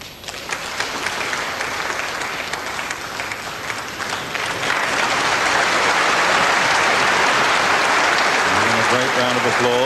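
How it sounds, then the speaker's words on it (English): A packed snooker audience of about 1,700 at the 1983 Lada Classic final breaks into loud, sustained applause that swells and holds steady, while a commentator talks over it. "Round of applause from this packed audience"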